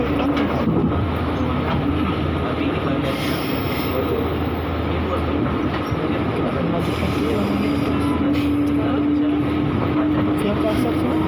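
A JR 205 series commuter train runs past with a loud, continuous rumble and rattling wheel noise, a steady mechanical drone holding throughout, heard up close.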